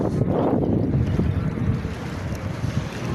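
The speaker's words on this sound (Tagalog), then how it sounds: "Masarap ang simoy ng hangin." Steady breeze rushing over the microphone while riding a bike near the sea at dusk, a continuous low broadband roar with gentle swells in loudness and no voices.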